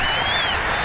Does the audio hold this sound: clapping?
yes